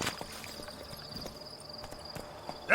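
Hooves of the horse Roach clip-clopping at a walk in The Witcher 3 game, a steady light rhythm of distinct close strikes over a faint ambient hum.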